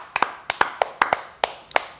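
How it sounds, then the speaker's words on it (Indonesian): A few people clap by hand in a loose, uneven rhythm, with about a dozen sharp claps, some doubled, close and clear in a quiet room. "Tepuk tangan loh."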